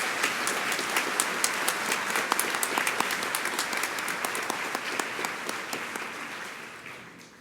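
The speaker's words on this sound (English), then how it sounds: "So I'd like to invite everyone here to give a round of applause for all of our graduates today." Audience applause for graduates at a summer graduation ceremony, dense sustained clapping with individual claps standing out, fading gradually toward the end.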